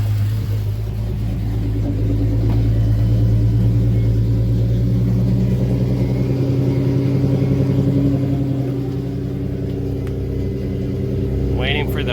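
An Acura car engine runs loudly nearby with a deep, steady rumble, rising slightly as if revved, then settling toward idle with a soft tick near the end.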